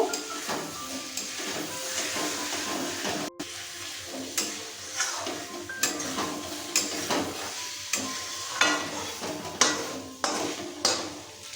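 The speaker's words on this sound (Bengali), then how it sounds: "এবার এর মধ্যে দিয়ে দেবো ভেজে রাখা আলু আর মাছ সব কিছুকে ভালোভাবে মিশিয়ে নেব" Fried potatoes and pakal fish are stirred into hot spiced oil in a pan, giving a steady low sizzle and hiss with repeated scraping clinks of a spoon against the pan, heard close and fairly quiet, with no talking.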